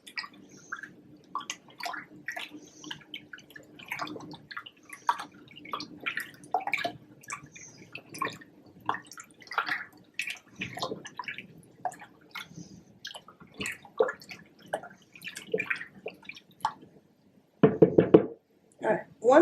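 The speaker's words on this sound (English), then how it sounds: "And now we're going to mix it so that all the sugar dissolves." A spoon stirs sugar into sweet iced tea in a pitcher, giving a run of close, irregular knocks and clinks against the sides with faint liquid swishing and brief pauses, then a louder burst of clatter near the end.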